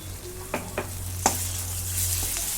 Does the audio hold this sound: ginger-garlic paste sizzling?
yes